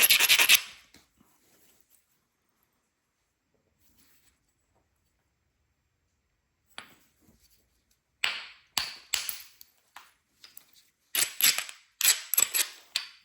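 Flint knapping on a stone preform, sharp isolated cracks of a hammer striking flakes off, first one strike, a long quiet pause, then a closer cluster of several clicky snaps in quick succession.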